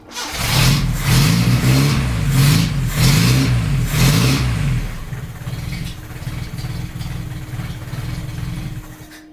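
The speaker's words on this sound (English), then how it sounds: "Don't know why it sort of struggles to start up, but there you go, it's running." A Datsun 510's L20B engine cranks in a rapid rhythmic churn for several seconds, then settles into a steady, quieter idle, heard close up.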